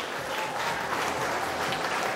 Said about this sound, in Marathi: रेफ्रिजरेटर विनरसाठी आपण जोरदार टाळ्या देऊया.